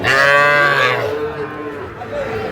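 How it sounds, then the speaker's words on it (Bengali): A loud, close moo from a young bull calf, about a second long, then fading into quieter low background noise at a calf market. "সুন্দর ষাঁড় বাচ্চা"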